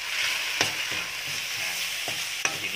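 Pork bones dry-roasting in a hot pan for a Thai kaeng khae curry, giving a steady sizzling hiss broken by a few sharp scraping knocks of stirring, close and alone.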